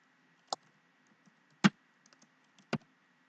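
Three isolated, crisp key clicks on a computer keyboard in a quiet room, evenly spaced about a second apart, ending with a press of the enter key.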